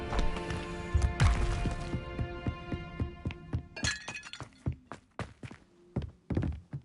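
Blasting spell shattering objects in a Harry Potter video game: a loud burst followed by a long run of crashing, clinking glass and debris breaking in irregular bursts, close and prominent, with faint speech at times.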